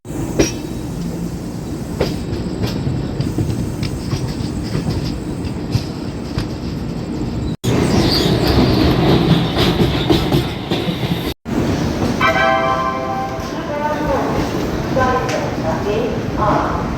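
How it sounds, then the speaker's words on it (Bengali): Steady roar and rhythmic wheel clatter of the 13051 Netaji Express passenger train running on the line between Kolkata and Burdwan, heard from inside, loud and continuous with squeal-like tones near the end. "একদম অন টাইমে ট্রেন ছেড়েছে"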